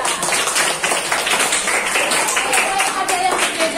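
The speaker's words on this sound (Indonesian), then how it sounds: "Tepuk tangan untuk kelompok 2." Classroom students clap for a group after their social studies presentation, a close, uneven patter of individual hand claps from a modest number of people, with some voices mixed in.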